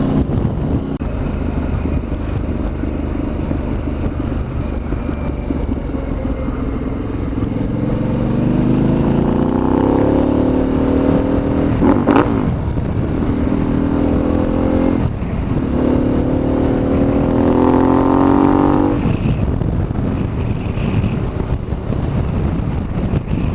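A 2003 Harley-Davidson Fatboy Anniversary Edition accelerates on the road, its engine rising in pitch through several gear pulls, with brief drops between them, under constant heavy wind rush from riding.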